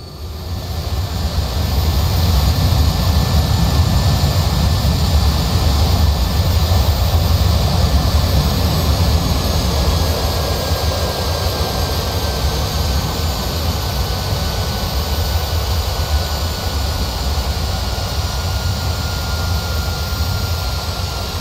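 Lockheed SR-71 Blackbird rolling out on the runway after touchdown in a flight simulator game, a loud steady roar of engine and rumble with a faint high whine.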